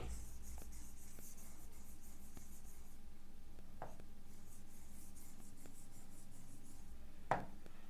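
Pen or marker scratching across a board or paper while a chemistry teacher writes notes, soft continuous strokes with a few brief taps and one sharper knock near the end, close and quiet with no talking.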